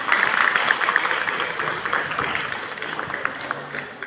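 Audience clapping right after a children's poem recitation, a moderate burst of applause that starts strong and gradually thins and fades over a few seconds, with faint crowd murmur.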